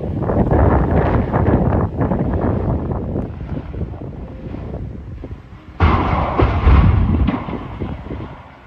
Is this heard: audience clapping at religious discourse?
no